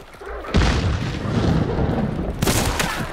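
A gunshot in the Hunt: Showdown video game lands as a headshot: a sharp, heavy boom with a long rumbling tail, then a second loud burst about two seconds later, with no talk.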